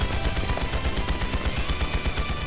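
Dense, continuous gunfire from a firefight in the game Trails Into Reverie, with overlapping rapid shots forming a steady crackling wall of sound at close range.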